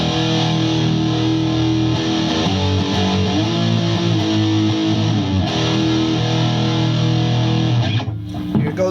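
A Nash electric guitar on the bridge pickup rings out with heavy distortion, sustained chords and notes droning loud and thick, cutting off abruptly near the end.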